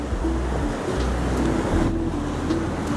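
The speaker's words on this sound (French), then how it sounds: "c'est là que les vagues sont genre pas mal plus intenses" Ocean surf on O'ahu, Hawaii, a continuous close wash of breaking waves mixed with gusty wind buffeting the microphone, no voices.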